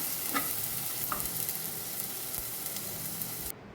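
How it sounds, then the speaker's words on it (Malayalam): Tomatoes sauté in a pan for a fish curry, a soft continuous sizzle with a couple of light stirring scrapes near the start, fairly quiet and close, with no talking. "ഇനി തക്കാളി നന്നായിട്ടൊന്ന് വഴന്നു വന്നിട്ടുണ്ട്."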